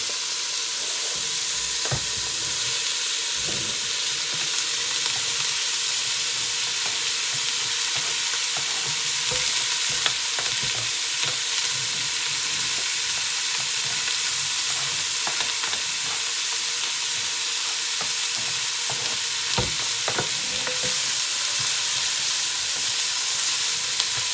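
Carrots, onions and bacon frying in an electric Remoska cooker aboard a sailing boat, a steady low sizzle and hiss with occasional stirring taps and scrapes, no talk.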